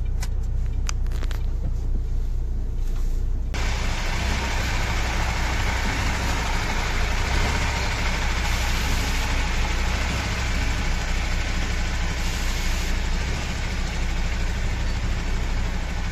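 A delivery truck reverses and manoeuvres between parked cars at a construction site. Its engine gives a loud, steady low rumble throughout, and the tone shifts slightly a few seconds in.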